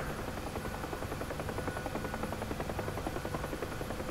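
A Huey helicopter in the DCS flight sim, its rotor beating in a fast, steady thudding rhythm over a constant turbine drone, moderately quiet and uninterrupted with no voices.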